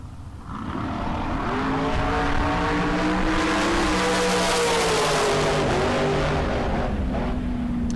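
A black dragster from Albuquerque, New Mexico roars down the drag strip at a bracket race, a loud sustained engine howl climbing in pitch through the gears, close and continuous with no talk.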